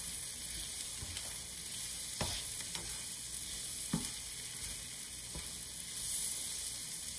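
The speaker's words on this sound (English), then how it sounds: "And just keep stirring until it's done." Food sizzles steadily in a pan on a stovetop, likely barbecue chicken, with a few sharp scraping strokes of stirring standing out against the constant frying hiss.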